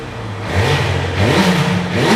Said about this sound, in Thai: เดี๋ยวมาฟังเสียงท่อคันนี้กัน อันนี้เป็นท่อเดิมนะครับ